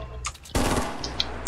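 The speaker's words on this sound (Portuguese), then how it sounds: "Que tiro foi esse?" A sudden loud burst of rapid gunfire in the game Fortnite erupts after a quiet moment, followed by a few sharper single shots.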